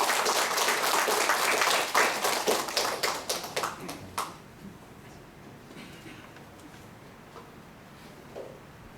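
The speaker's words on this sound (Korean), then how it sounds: "우리 박수로 환영합시다." A church congregation at a Sunday worship service claps to welcome a guest preacher from Los Angeles; the dense clapping runs for about four seconds, thins out and stops, leaving a quiet room with faint stray sounds.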